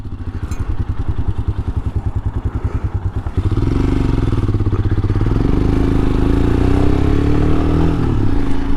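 Royal Enfield Himalayan motorcycle engine idling with a lumpy single-cylinder thump, then pulling away and revving steadily louder as the bike rides off toward a mountain gorge, heard close throughout.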